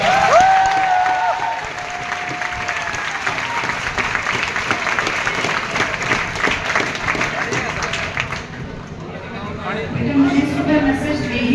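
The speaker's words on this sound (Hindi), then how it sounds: "तो बबीता मैम के लिए जोरदार तालियां बजाओ" Students applaud their teacher at a Diwali class gathering, loud clapping mixed with crowd chatter and cheering, a voice heard briefly over the start, then tapering to lighter babble near the end.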